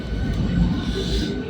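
A passenger train pulls away from Panskura station in West Bengal, making a low continuous rumble with faint rhythmic clatter, heard from inside the carriage amid a murmur of background voices.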